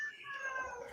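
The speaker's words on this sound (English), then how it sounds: "and now I hear a cat in the background" A house cat meows once in the background, a short, faint cry rising and falling under a soft room hush.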